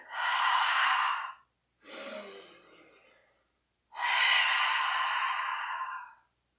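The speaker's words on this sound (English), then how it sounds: "One more nice deep breath." Three long, slow, deep breaths during a yoga flow, each a soft airy rush lasting over a second, close and clear with brief silent pauses between them.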